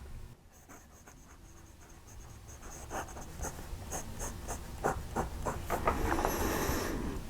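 Close, quiet scratching of a fountain pen nib on paper, in short repeated strokes that grow slightly louder and busier toward the end.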